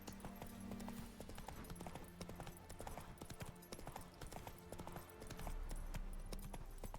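A horse's hooves clip-clop in a quick, steady galloping rhythm as the rider travels in The Witcher 3 video game, with softer background game sound beneath the hoofbeats.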